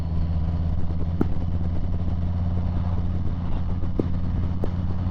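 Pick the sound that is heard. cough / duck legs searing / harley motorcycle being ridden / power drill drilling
harley motorcycle being ridden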